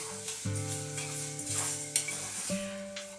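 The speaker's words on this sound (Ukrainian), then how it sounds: "І все це ретельно перемішую, тому що мені потрібно розтопити мед із цукром." Honey and sugar being stirred together in a pot to melt for a honey sponge cake batter, a soft steady scraping and hiss under sustained background music.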